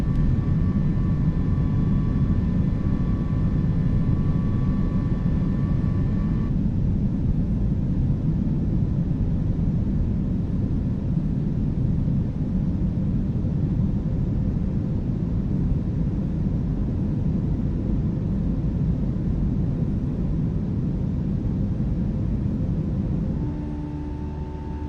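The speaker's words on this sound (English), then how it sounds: "And the sounds of this plane as well." An A320 airliner heard from the flight deck, a dense, steady low engine roar with broadband airflow hiss that continues without a break for about twenty-five seconds.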